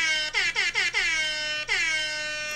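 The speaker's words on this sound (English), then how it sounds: "If my wife hears that air horn, she's going to go nuts." An air horn blares in four quick successive blasts followed by a longer held blast, loud and bright with a stuttering rhythm, no talk over it.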